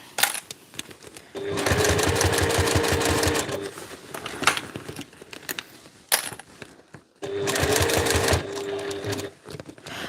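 A home sewing machine runs a test seam while its tension is checked, two loud, rapid mechanical stitching bursts of a few seconds each, close up, with clicks and handling noises between them.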